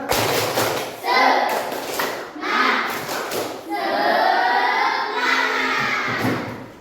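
Rhythmic group clapping from a class of children, with clustered claps and thuds punctuating loud unison chanting, near and energetic.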